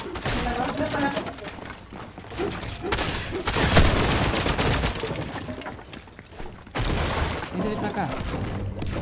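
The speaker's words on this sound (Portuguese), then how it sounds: "Ai! Um tiro!" Rapid gunfire bursts in a competitive duo match of a video game, loud and dense over several seconds, mixed with excited talking from players.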